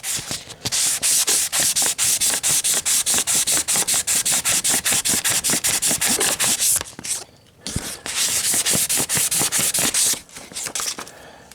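Copper sheet is rubbed on 1200 grit wet and dry paper in quick, even scrubbing strokes. The strokes run loud and close in a long steady rhythm, with one brief pause partway through before they resume.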